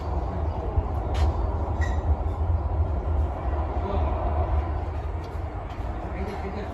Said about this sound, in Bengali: ওই যে ট্রেন যাচ্ছে পদ্মা সেতু